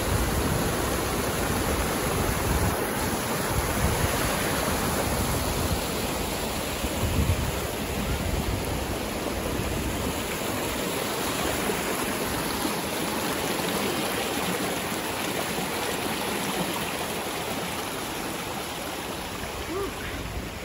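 A waterfall and stream at Grassi Lakes in Canmore rush in a steady, broadband wash of falling water, continuous and fairly close, with no voices over it.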